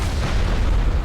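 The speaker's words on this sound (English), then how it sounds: "There's an explosion." A deep, loud explosion booms in the video game Enderal, a dense low rumble that fills the whole moment without any voices.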